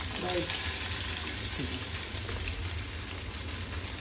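Onion, garlic and whole cumin seeds frying in hot oil in a home kitchen, giving a steady, close broadband sizzle that runs the whole time with a low background hum.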